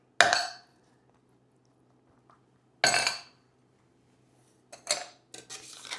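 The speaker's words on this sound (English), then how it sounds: "I'll put a couple iced cubes into the tin." Ice cubes dropped into a metal cocktail shaker tin for a margarita, a few sharp separate clinks and rattles with quiet gaps between them.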